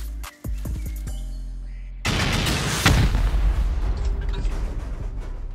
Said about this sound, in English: Send rockets.